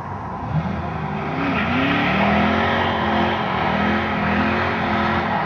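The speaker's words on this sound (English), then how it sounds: "Unnecessary burnout for no reason." A car, apparently a Monte Carlo, does a burnout in traffic, its engine droning loud and steady with rising and falling pitch sweeps throughout and no talk over it.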